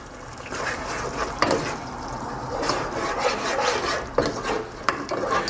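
Sauce with adobo seasoning, olives and bouillon being mixed in a pot, a steady wet rasping scrape of a spoon against the pot with occasional sharper knocks, close and fairly loud with no talking.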